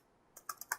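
Computer keyboard keys tapped while typing a file name, a short quiet burst of four or five crisp clicks after a brief silence, close and alone.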